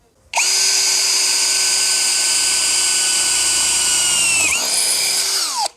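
An IMAX IMCD-20BL brushless cordless drill with a 6 mm bit starts abruptly drilling steel and whines at a high, steady pitch for about five seconds, its tone dipping briefly near the end before it stops.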